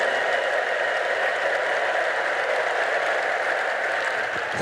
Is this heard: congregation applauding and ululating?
yes